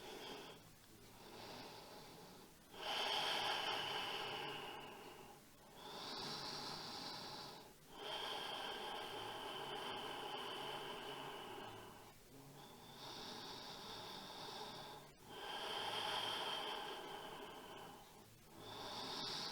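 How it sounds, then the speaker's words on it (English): Slow, deep yoga breathing, each inhale and exhale drawn out over a few seconds in a steady rising-and-falling rhythm, close and fairly soft with no talking. "just allow yourself to experience the rise and the fall as you inhale and you exhale"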